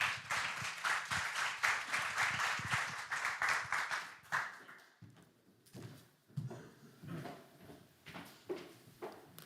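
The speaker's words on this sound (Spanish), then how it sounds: "Un aplauso para ella." An audience applauds a speaker at a cybersecurity event, loud continuous clapping that fades after about four seconds into scattered, sparse claps and a few knocks.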